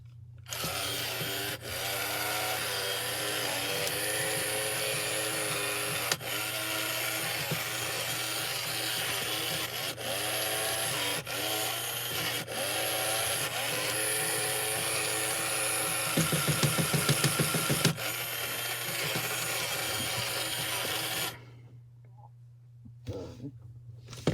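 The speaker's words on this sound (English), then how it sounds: "So this is going to go through all of the motor movements." Small motors whir continuously inside a Meow-chi robot cat toy running through its factory test movements, a steady close mechanical drone with faint periodic clicks, briefly louder near the end before stopping into near silence.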